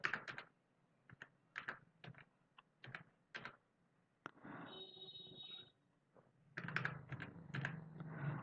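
Typing on a computer keyboard to fill in a form, quiet irregular bursts of key clicks separated by short pauses, with a brief steady tone midway, close and alone without talk.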